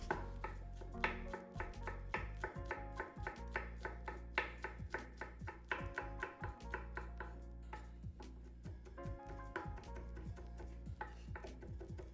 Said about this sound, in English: I'm just gonna go through and mince them, just kind of a rough chop mince.